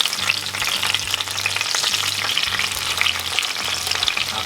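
Potatoes and carrots sizzling in a preheated cast iron skillet, a loud, even crackling fry that continues steadily, close up, with no voices.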